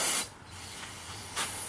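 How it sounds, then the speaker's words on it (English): Cleaner sprays onto junkyard LS engine pistons during prep in two short hissing bursts, one at the start and one near the end, close and fairly loud with a quiet gap between. "All right, we're gonna spray this a little bit."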